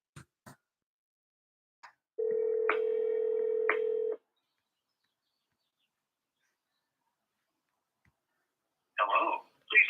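A telephone call being dialed: a steady electronic tone holds for about two seconds with a couple of sharp clicks, set among near silence and a few faint, brief noises.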